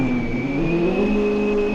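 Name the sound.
truck engine revving against its rev limiter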